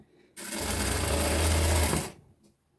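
A sewing machine stitches a shawl with thread in one steady, loud burst of fast motor whirring and needle clatter lasting about a second and a half, close up, then stops abruptly.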